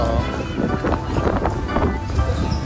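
Cold wind buffets the microphone outdoors on a city street in Belgium, a loud continuous rumbling gust that masks everything else, with a voice faintly present.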